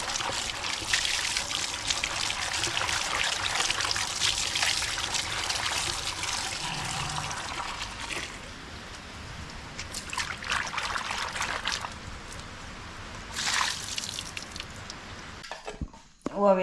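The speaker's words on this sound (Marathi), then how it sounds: "ते पाण्यात थोडं धुवून घेऊया" Ajwain leaves being rinsed in a bowl of water at home for bhaji: trickling, splashing water with soft sloshes and intermittent pours, close and fairly quiet, with brief bursts of handling and a clunk near the end.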